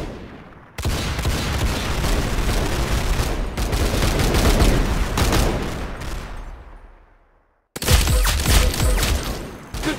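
Video game gunfire rattles in long dense bursts, loud and close, cutting out briefly before a fresh volley starts, with no talk.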